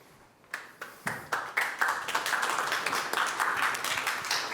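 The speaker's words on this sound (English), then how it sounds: "Firstly, big round of applause, and thank you." An audience breaks into applause, a few scattered claps quickly swelling into steady, sustained clapping from many people.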